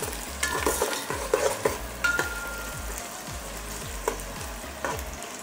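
Onions fry in a pan for homemade chicken biryani with a steady, close sizzle. Rhythmic scraping stir strokes repeat throughout.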